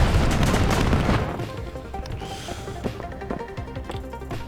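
Rockets fired from a building and explosions in the real-time strategy game WARNO, a dense loud roar of blasts at first that thins into scattered booms, clanks and rattling gunfire over a rumbling battle background.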